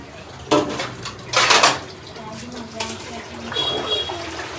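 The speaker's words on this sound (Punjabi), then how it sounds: "ਹੁਣ ਧੋ ਰਹੀ ਆ ਭਾਂਡੇ ਦੁਬਾਰਾ" Dishes are being washed at close range: clinks and clatters of utensils, short gushes of running water, and scraping sounds come in bursts, with someone talking at times.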